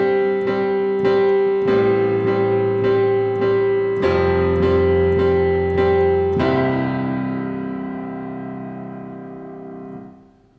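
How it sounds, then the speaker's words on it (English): An acoustic grand piano from Ivory software plays a slow worship melody alone, struck chords and single notes ringing clearly before the last chord sustains and fades away to silence. "Now, the acoustic piano by itself sounds like this."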